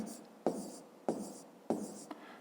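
Pen strokes scratch on paper while numbers are written for a fifth-grade math exercise, three short bursts of scribbling at a steady pace, close and quiet.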